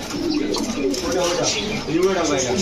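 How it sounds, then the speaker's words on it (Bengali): Maxi Racer pigeons coo at a pigeon shop, low rolling calls that overlap nearby people talking, the birds close and continuous throughout. "চলুন কবুতরগুলো দেখাই"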